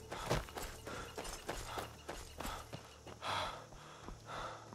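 Heavy, rhythmic panting from a running character in the video game Skyrim, a string of sharp breaths close up over faint footsteps, with no talk.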